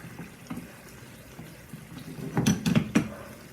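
Spoon stirring pasta alla Norma with eggplant in a pan, quiet scraping at first, then a cluster of louder clattering knocks of the spoon against the pan; no talking.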